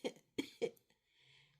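A cartoon character, a doctor bear, gives three sharp coughs close up and alone, followed by a faint low hum at the end.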